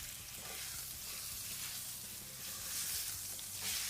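Rib eye steak sizzles in hot oil in a pan for a Mexican-style stir fry, a loud, dense, unbroken hiss that holds steady throughout with no voices.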